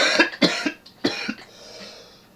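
Several harsh, close coughs in quick succession, tapering into a raspy breath at the end.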